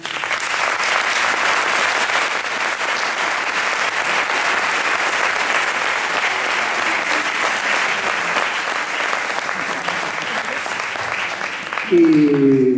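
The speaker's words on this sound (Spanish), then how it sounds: "os quiero presentar, por favor, con un fuerte aplauso a mi mejor amigo" Sustained, loud audience applause at a farewell concert by a band, with dense clapping and some crowd noise continuing for several seconds before a voice cuts in at the end.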